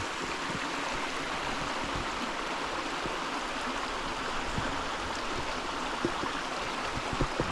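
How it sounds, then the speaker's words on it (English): Steady rushing of stream water spilling over a low stone weir, a continuous close wash with small splashy variations throughout. "As you can hear the water running just over that little natural weir"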